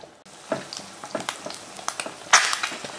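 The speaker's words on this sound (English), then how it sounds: "And this is how I do my eggs. Slow cook." Eggs slow-cooking in a frying pan sizzle quietly up close, broken by scattered crackles and pops, with one louder burst of spatter near the end.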